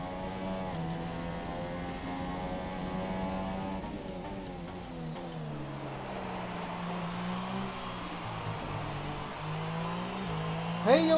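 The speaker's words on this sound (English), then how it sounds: "Just give it a little throttle at the exit of the corners and there the car goes." Formula 1 race car in the F1 2018 video game, its engine note climbing and falling in sustained rising pitch sweeps as it accelerates out of corners, steady and fairly loud with no talk over it.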